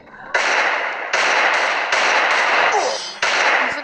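Gunfire from a video game headshot rings out as loud, sustained crackling bursts, about four long volleys with short gaps between them, close and dense.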